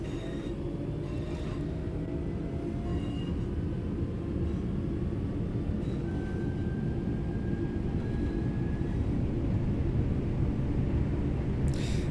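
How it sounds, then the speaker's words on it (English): A train moving along in Train Sim World 4 on PS5: a steady, low rolling rumble with faint passing tones, continuous and even throughout, with no talking. "Now the train is actually moving."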